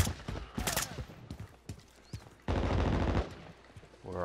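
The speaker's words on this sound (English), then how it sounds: "Let's see what the submachine gun can do for this one." Submachine gun rattling in a Call of Duty multiplayer match: short bursts of rapid shots early on, then a sustained, louder volley, with faint game noise between.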